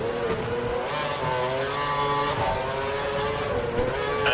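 A Formula One race car engine screams at full revs in a Monaco 2012 racing video game, holding a loud, steady high-pitched whine throughout without any talk.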